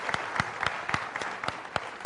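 A small audience at a Minnesota congressional district forum in Duluth claps lightly, giving scattered, uneven individual claps over a couple of seconds, faint and a little distant, with no speech.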